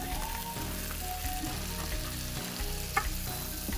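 Carrots and other vegetables sautéing in a pan, a steady close sizzle with light stirring scrapes and one sharp clink near the end; no one speaks.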